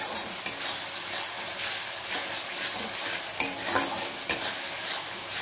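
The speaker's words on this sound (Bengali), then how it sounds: "ভালো করে কষিয়ে নেব।" Cabbage curry with masala sautéing and being stirred in a pan, a continuous close sizzle with scraping spatula strokes and a few sharp knocks against the pan.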